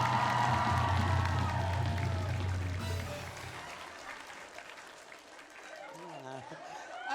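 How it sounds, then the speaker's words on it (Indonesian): Studio audience on an Indonesian comedy show clapping and cheering loudly, the applause fading after a few seconds as a voice speaks over the thinning crowd noise. "Lagi tepuk tangannya dong, tepuk tangannya."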